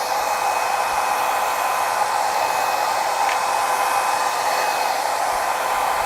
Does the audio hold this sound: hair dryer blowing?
yes